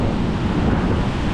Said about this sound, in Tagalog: medyo rough yung alon ngayon guys